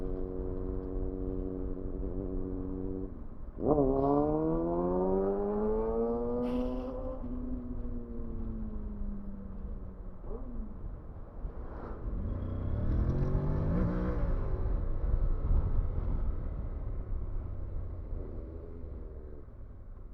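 A Kawasaki 636 motorcycle engine revs up sharply, its pitch climbing and falling through several gear changes, loud and close, then surges again before easing off.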